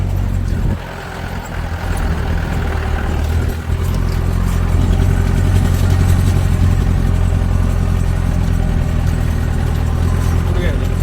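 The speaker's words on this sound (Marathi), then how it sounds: "निघाली आपली गाडी" A car engine rumbles steadily and grows slightly louder as the vehicle pulls away on a village road in hilly countryside, with people talking over the engine noise.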